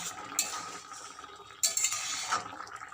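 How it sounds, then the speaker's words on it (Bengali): Ground poppy seed paste is mixed into a simmering prawn and okra curry, with faint metal scraping and stirring strokes against the pan over a low bubbling background. "বেটে রাখা পোস্ত দিয়ে ভালো করে মিশিয়ে নেব"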